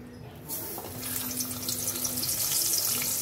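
Pomfret fish pieces coated and dropped into hot oil in a home kitchen, a steady broadband sizzle that swells louder after a brief quiet start, continuous with no talking.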